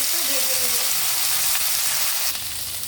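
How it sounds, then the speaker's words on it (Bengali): Vegetables fry lightly in oil in a pan, giving a steady, close, hissing sizzle with faint stirring throughout and no clear talk. "এই প্যানে তেলে আমি সবজিটা একটু হালকা ভেজে নেব।"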